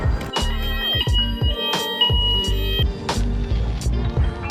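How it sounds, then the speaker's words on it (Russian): A fire alarm goes off inside a campus building in Cambridge, England, sounding as steady, piercing electronic tones over repeated heavy low pulses. It stays loud and continuous throughout, with no talking. "У нас сработала пожарная сигнализация."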